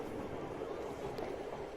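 A heritage tram runs at Beamish open air museum, a soft steady rumbling roll with faint rail noise, heard from on board at low level, with no talking.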